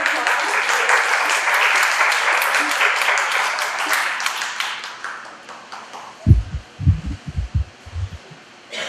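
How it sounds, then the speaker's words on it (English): A studio audience on a morning TV show claps warmly for several seconds, then the applause fades into a few scattered low thumps. "if you want to give her a warm round of applause"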